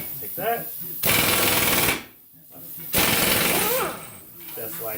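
Pneumatic air impact wrench on a car's rear wheel, firing two loud close hammering bursts of about a second each, with a voice talking in the gaps between them.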